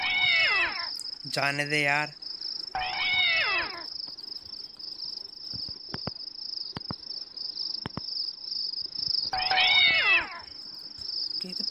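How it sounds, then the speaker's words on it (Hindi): A cat in The Visitor video game gives several drawn-out meows and one higher wailing call over a constant insect-like chirring drone, with a few sharp clicks between and a brief spoken remark. "और नीचे बिल्ली बैठी हुई है, कहते बिल्ली हमें आगे जाने से रोक रही है।"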